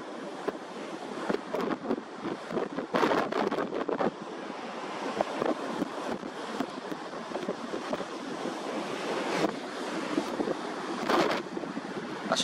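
Large ocean waves from a 3-5 ft swell break and wash in a continuous roar, with wind buffeting the microphone and surges of surf rising every few seconds.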